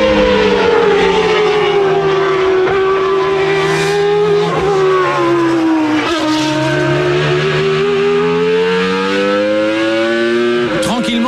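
Renault Espace F1 from 1994 with a 3.5-litre Formula 1 engine and sequential gearbox, screaming loudly and continuously as it climbs past 14,000 rpm, the pitch rising and dipping through gear changes, with a voice talking over it.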